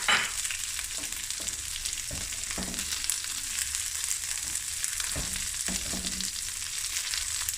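String beans, curry leaves and other vegetables stir-fry in a pan for fried rice, a continuous hiss of sizzling with regular scraping stirs throughout, no talking.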